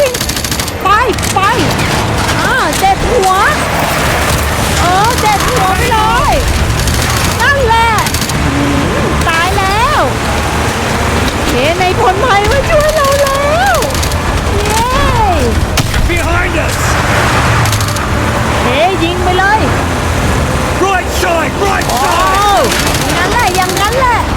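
Call of Duty Modern Warfare 2 Remastered gunfire rattles in repeated bursts over a dense, loud battle din with engine noise, while a player talks excitedly over it throughout.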